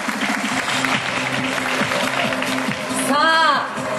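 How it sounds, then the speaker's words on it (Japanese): Steady applause from a quiz show audience fills the room, with a voice speaking over the clapping and a brief electronic jingle near the end. "大きな拍手をお願いいたします。"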